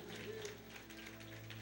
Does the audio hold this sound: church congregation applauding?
yes